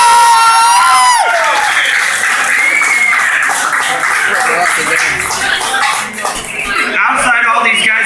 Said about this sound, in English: let's give a round of applause to Gannon real quick